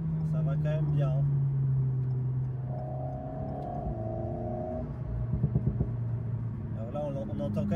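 An Alpine A110S with a seven-speed gearbox drives on the motorway, its engine and exhaust humming steadily and swelling with revs and a few pops, while people talk over it.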